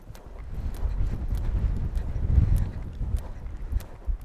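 A ridden horse works on square halts in a dressage schooling session, its hooves giving soft, muffled, rhythmic thuds against a breezy background of wind noise.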